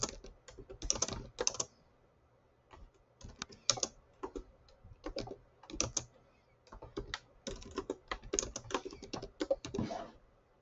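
Typing on a computer keyboard while working through a Canva design tutorial, close and clear bursts of rapid key clicks separated by short pauses, with no talking in between.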